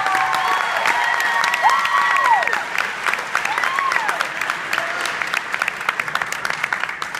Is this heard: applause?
yes